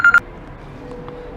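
A telephone gives two short electronic beeps during a call, quick tones over a low background hum.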